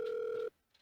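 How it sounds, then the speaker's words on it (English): A telephone line rings with a single steady electronic tone that lasts about half a second and then cuts off into near silence. "the line finally rings"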